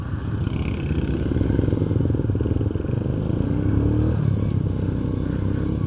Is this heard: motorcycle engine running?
yes